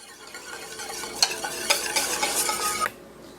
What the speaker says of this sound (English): So just really whisk it good over there, and if you keep whisking it, keep mixing it